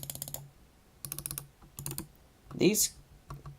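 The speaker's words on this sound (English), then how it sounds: "keys travel slightly more when you click" The buttons of a Logitech G602 gaming mouse are clicked in quick rapid bursts of crisp, close plastic clicks with short pauses between them, and someone speaks briefly partway through.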